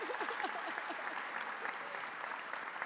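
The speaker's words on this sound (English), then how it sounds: "can I please have a big round of applause for Lindsay and Alison." Audience applause, a crowd clapping steadily at moderate volume, with a few faint voices mixed in near the start.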